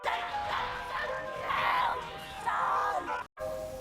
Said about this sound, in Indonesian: Terdengar teriakan yang sangat mengerikan.